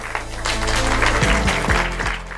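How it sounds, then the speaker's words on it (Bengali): A crowd at a game show prize ceremony claps for the first prize winner, a dense burst of applause with music-like tonal layers and background voices underneath. "সবাই আপুর জন্য একটি হাততালি"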